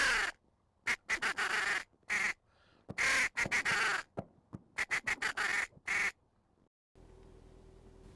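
Ducks quack in short bursts and clusters, fairly close and loud against silence, followed by a faint low hum at the end.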